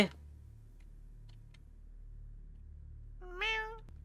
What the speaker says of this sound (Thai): เจ้าแมวแกทำใช่ไหม